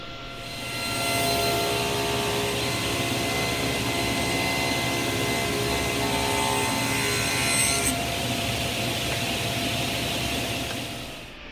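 A table saw cutting a halfway dado into a box side pushed against the fence, giving a steady, close, loud whir with a brief change in the blade tone partway through before it spins down. No one talks.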